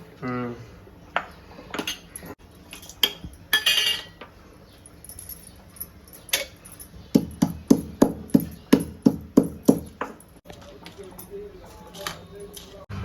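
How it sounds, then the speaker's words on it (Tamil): Cardamom pods for sweet brown-sugar pongal are pounded by hand, a run of about ten sharp, evenly spaced knocks in the middle, with scattered clinks and kitchen clatter around them. "ஏலக்காய் தட்டணும்"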